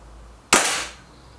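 An Express air rifle fires a single .22 pellet of 21 grains, one sharp, loud crack with a short decaying tail, alone against a quiet background.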